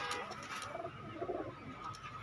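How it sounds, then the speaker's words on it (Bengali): A pair of red-eyed Kasuri pigeons at a pigeon market in Khulna gives soft, low, close cooing in short rolling phrases, with no talk. "দর্শক, এই এক পেয়ার কাসুরি কবুতর আছে,"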